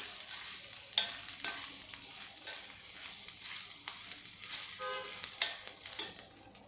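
Ginger with Kashmiri chilies and hot red chili powder sizzles in a pan for a ginger chutney, a steady bright frying hiss broken by occasional scrapes of a stirring spoon, close and clear.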